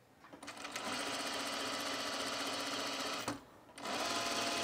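A sewing machine stitches tucks into a top, a close, steady mechanical whirr that runs continuously, stops briefly, then starts again.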